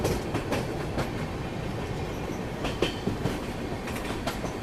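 An Indian Railways passenger train rolls along the tracks between Gorakhpur and Varanasi near Chauri Chaura, with a continuous rumble and rhythmic clickety-clack wheel beats heard from inside the carriage.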